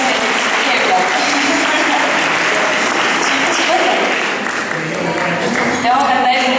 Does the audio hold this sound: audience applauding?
yes